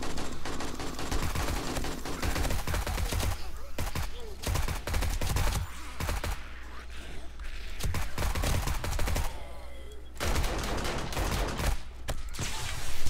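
Automated turret fire in the game 7 Days to Die during a night horde attack: rapid, repeated bursts of gunshots in clusters, loud and near, with brief pauses between volleys.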